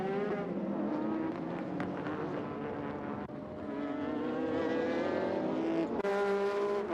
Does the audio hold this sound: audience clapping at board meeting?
no